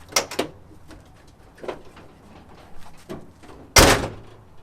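The door of an old Ford truck, just refitted after a hinge mount repair, opens with a few faint clicks and soft knocks, then shuts with one loud, close slam near the end.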